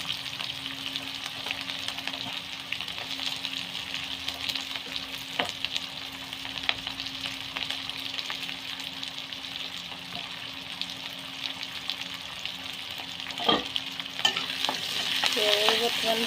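Sliced onions frying in oil in a pan, a steady close sizzle with occasional stirring scrapes and clinks running continuously, slightly louder toward the end, with no speech.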